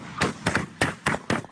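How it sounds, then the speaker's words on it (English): Gunshots recorded outside a family home in Ypsilanti, Michigan, five sharp cracking reports spaced roughly a quarter second apart, fairly close and loud, with no talk. "That's the sound of gunshots as Terrell did a Facebook Live"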